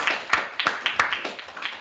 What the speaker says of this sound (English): can we please give Miss Anna a round of applause for helping us out?